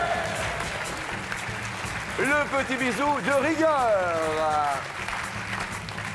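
A studio audience at a French TV game show applauds and cheers, building to a louder burst in the middle, while a host's voice and musical tones play over it.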